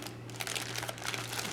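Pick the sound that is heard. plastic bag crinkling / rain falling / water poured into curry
plastic bag crinkling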